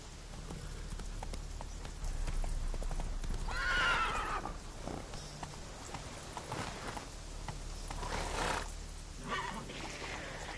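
Galloping hooves and a loud whinny from a horse in the open-world fantasy game The Witcher 3: Wild Hunt, mixed with game ambience and no talk.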